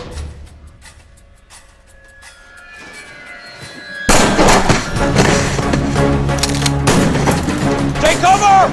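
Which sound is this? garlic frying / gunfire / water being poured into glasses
gunfire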